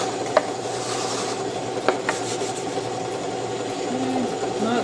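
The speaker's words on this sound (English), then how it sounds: "I don't really mind if it takes a little bit longer for this part of the sanding." A wooden bandsaw box is power-sanded slowly, giving a continuous whirring, rasping drone with a few light knocks and scrapes over the top.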